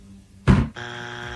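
A game show buzzer on a radio talk show sounds once, a short loud harsh blast, followed by a steady tonal hum that lingers underneath.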